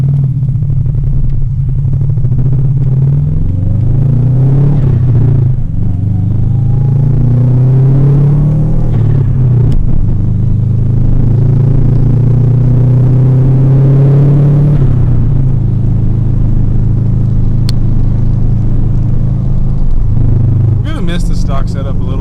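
A car with a Subaru EJ22T engine at 341K miles drives up a road, its loud, close engine droning and rising and falling through gear changes. The engine runs continuously under a speaking voice.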